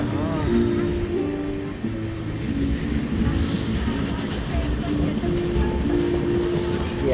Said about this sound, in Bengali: ট্রেন খুব স্লো চলছে।